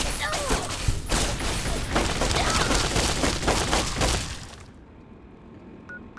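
Gunfire in Fallout's Tale of Two Wastelands mod, a dense fusillade of cracking shots and breaking sounds that lasts about four seconds, then cuts off into a quiet hum.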